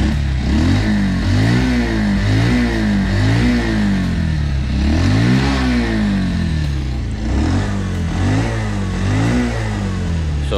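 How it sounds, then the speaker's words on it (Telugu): A Bajaj Pulsar 125 BS6 motorcycle engine idles loudly and close, then revs up and down repeatedly in rising and falling sweeps, with no talk. "ఒకసారి మనం ఇంజన్ ఆన్ చేసి చూద్దాం, స్టార్ట్ చేసి చూద్దాం సౌండ్ ఎట్లా వస్తుంది"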